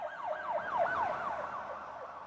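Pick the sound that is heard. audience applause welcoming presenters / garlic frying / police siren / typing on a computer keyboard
police siren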